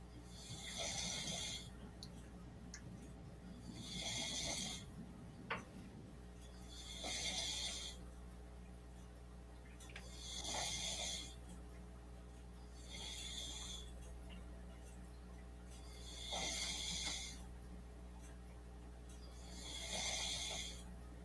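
A sleeping person snores in slow, regular cycles, about five loud, breathy rasps spaced roughly every three to four seconds, close by over a steady low hum.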